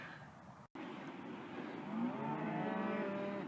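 Cattle low near the coast near Ferndale, California, a deep moo rising after a brief cut and holding, loud and fairly close, over a soft background rush.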